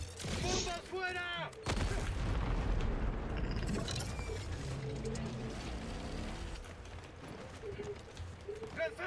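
Bombs drop and burst in an online shooter video game, with booming impacts and crackling gunfire rumbling at moderate distance while Spanish-language game voice callouts speak over the action.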